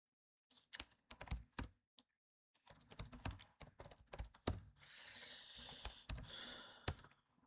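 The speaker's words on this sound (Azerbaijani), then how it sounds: "kursoru qoydum bu yazının üstündən altdan bir neçə dənə ad yazıram" Typing on a computer keyboard in an MS Word session, entering a few names: bursts of crisp, close keystrokes in quick irregular runs separated by short pauses, with no voices.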